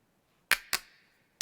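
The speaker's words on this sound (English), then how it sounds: "There's 3 claps." A studio hand clap layered with two tape ADT doubles, heard as three loud, snappy cracks: two close together, then a third after a short gap, each with a quick bright decay.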